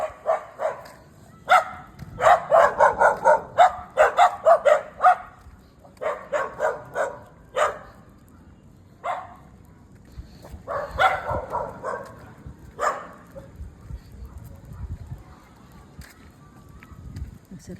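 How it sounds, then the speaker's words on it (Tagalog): A dog barking repeatedly in loud close bursts, rapid volleys then sparser single barks, over faint outdoor background noise. "May aso pa."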